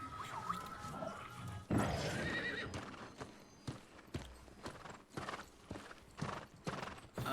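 A summoned horse mount in the game New World clip-clops with quick hoof beats, with a whinny early on, then steady rhythmic trotting at moderate distance.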